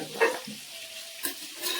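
Chicken being half-cooked in coconut oil gives a soft sizzle, broken by a few brief scraping stirs close by.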